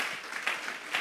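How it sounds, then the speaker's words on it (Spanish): Brief burst of church congregation clapping offered as praise during a Spanish-language sermon, a quick rhythmic patter of hands at moderate distance. "Vamos a regalarle ofrenda de palmas al Dios de la gloria."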